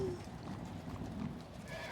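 Horse hooves clip-clop at a trot in the Warhammer 40K: Rogue Trader video game, a steady rhythm of mid-level hoofbeats with a brief whinny-like tone at the start.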